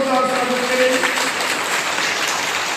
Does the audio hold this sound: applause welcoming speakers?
yes